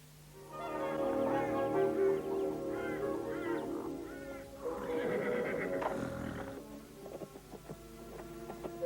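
A black stallion neighs in a long, loud whinny, followed by snorting and shorter whickering sounds, close by with some background noise.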